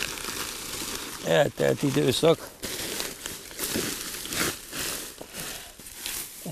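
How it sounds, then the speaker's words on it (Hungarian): Paper mulch crinkles and rustles as it is lifted off undug garden soil. The crackling comes in a brief burst of close crumpling while someone talks in Hungarian. "És hát aztán felemelem a papírt"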